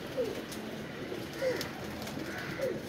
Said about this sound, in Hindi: देखो जानवर बड़ा शानदार कबूतर।